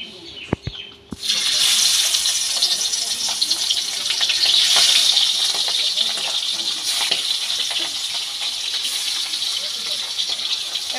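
Tangra fish drop into hot mustard oil in a pan and fry with a loud, steady crackling sizzle that starts abruptly after a few clicks and keeps bubbling and spitting close by.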